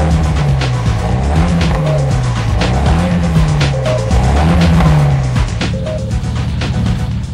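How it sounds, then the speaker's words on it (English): Nissan S15 Silvia rally car, modified by a former WRC hand, blasts its exhaust through repeated revving surges with tire squeal on a mountain touge road, loud and near throughout. "Come on, listen to the tunes of this exhaust"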